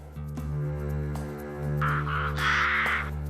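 Ravens, black members of the crow family, give a few harsh caws partway through, heard over a steady low hum.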